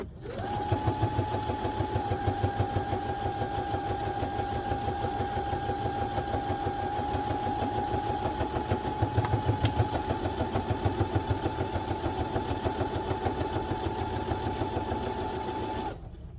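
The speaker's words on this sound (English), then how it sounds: "And then we'll just sew straight down." A sewing machine runs a steady straight seam down the fabric of a small pouch, its fast even needle rhythm continuous and close for the whole stretch, with no talking.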